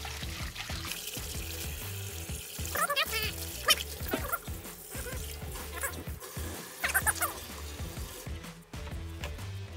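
Running tap water pours and splashes steadily over a whole large salmon as it is rinsed inside and out after scaling, with intermittent louder splashes and handling noises.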